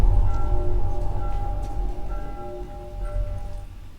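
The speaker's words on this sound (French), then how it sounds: "les cloches là qui sonnent." Church bells ring with faint sustained tones from a distance, over a heavy low rumble.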